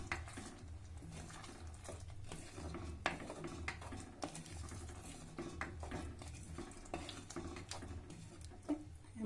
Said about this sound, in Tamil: இதை நல்லா மிக்ஸ் பண்ணி விட்டுடலாம்.